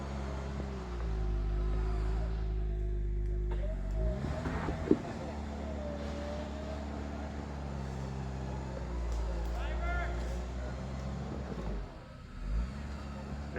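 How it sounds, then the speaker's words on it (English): Off-road Jeeps idle and rumble steadily on a rough trail while one winches another vehicle back, a low engine drone under intermittent talk, with a brief mechanical thump partway through. "the winch is pulling him back"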